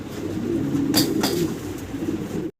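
Fancy pigeons coo softly and repeatedly in a continuous low murmur, with a couple of brighter calls standing out, close by and with no talk.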